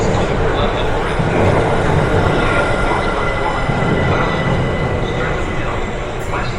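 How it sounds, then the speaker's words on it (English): A train rolls into platform 15 at Clapham Junction station with a steady rumbling roar and faint wheel noise, loud and close, continuing throughout with no clear talk. "The train now approaching platform 15 is the 1930 Southern service to London Bridge"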